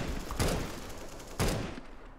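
Two bursts of video-game gunfire, each a short rapid volley of shots, crack out about a second apart at moderate loudness, each ringing briefly before fading.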